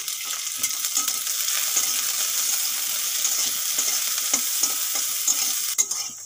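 Garlic and dried red chillies sizzle in hot oil in a pan, a steady close hiss with a utensil scraping and clinking through the stir.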